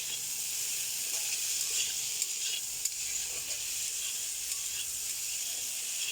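Chickpeas and soya chunks fry in a pan with a dense, continuous sizzling hiss, close and fairly loud, with faint scraping as they are stirred.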